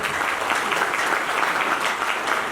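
An audience at a Gold Lions business speech event in Solan breaks into sustained, even applause, a thick wash of many clapping hands that holds level without pause.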